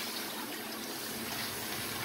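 Tap water steadily gushing into a pressure cooker while preparing rose hip jam, a continuous even rush of pouring water, close and unbroken, with no speech.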